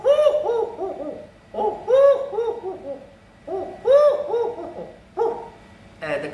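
A man mimics a wood pigeon with his voice, giving four soft, hollow cooing phrases of several rounded hoots each, close and clear with short gaps between them.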